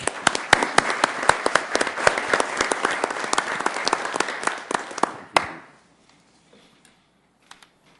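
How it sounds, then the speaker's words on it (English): A council meeting audience in Sioux Falls breaks into dense, lively applause for several seconds, then it cuts off abruptly, leaving a near-silent chamber with a few faint stray taps. "Can we give her a round of applause, please?"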